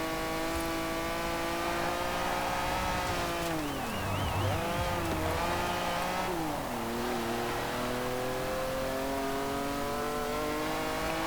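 A modified car in Forza Horizon 4 accelerates with a loud, buzzy engine note that climbs steadily, dips briefly around a gear change, then climbs again, continuous and alone.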